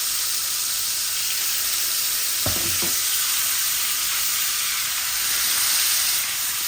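Koi fish frying in a pan with turmeric and salt, giving a steady loud sizzle and hiss, with a couple of brief knocks midway.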